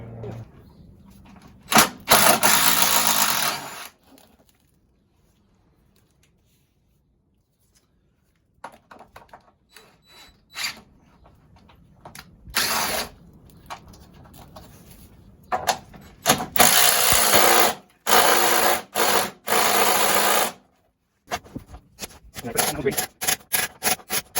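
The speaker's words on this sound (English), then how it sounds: "So I'll get this undone now." Bolts being undone on a VW T4 Transporter: close, loud bursts of ratcheting and clattering separated by quiet gaps, with a person talking in between.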